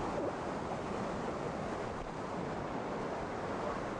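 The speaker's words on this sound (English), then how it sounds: "And soon, you begin to hear the roar of the white water." Steady, continuous roar of whitewater rapids on the Lower Yough river, a broad rushing wash of water heard alone without voices.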